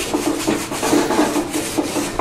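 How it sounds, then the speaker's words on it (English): Steel wool scrubs rust off the cast iron top of a vintage table saw in a garage, making a loud, close, rhythmic rasping rub in repeated strokes with no talking. "scrubbing off the top with a clean piece of steel wool, just to get the big flecks of"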